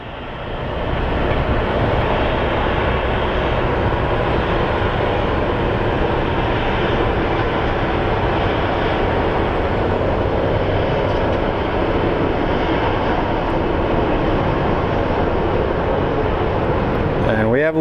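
Airliner taking off at Phoenix Sky Harbor, a loud sustained broadband jet roar filling the whole stretch after a brief quiet start, constant and close.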